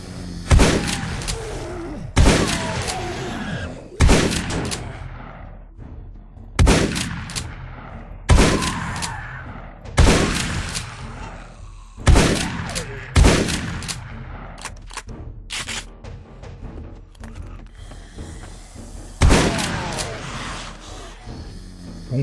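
Gunshots ring out in the zombie video game 7 Days to Die War3zuk, a dozen or so loud, sharp blasts spaced a second or two apart, with some quieter thuds and game noise between them.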